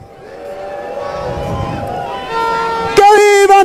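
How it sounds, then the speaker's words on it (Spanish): A crowd at a political rally in Santa Cruz bursts into applause and cheering, rising from a murmur to loud clapping, with a sharp whistle-like tonal burst near the end. "Un fuerte aplauso, por favor."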